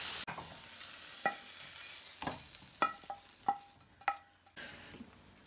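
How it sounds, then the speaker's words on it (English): Vegetables frying in a pan greased with Fry Light spray give a steady soft sizzle, with a few sharp clinks and scrapes of a utensil stirring, close and without speech. "put some more fry light in just so then you can start frying off the vegetables"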